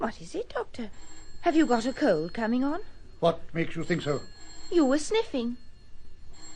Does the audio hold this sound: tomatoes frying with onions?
no